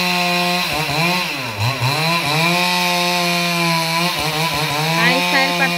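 A chainsaw cuts firewood into small logs, its engine snarling close by and its pitch dipping and rising as the chain bites through the wood, then holding a steady high whine.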